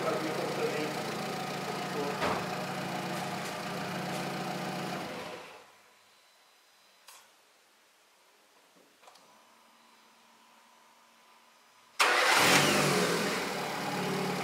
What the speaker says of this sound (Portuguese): olha a serenidade do motor